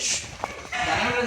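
A short, low cow moo rises after a moment of scattered rustling and shuffling.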